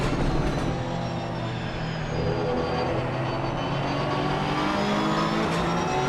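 GT4 race car and Aston Martin on a circuit during a multi-class sprint race, a continuous engine drone with rising and falling tones and no talk.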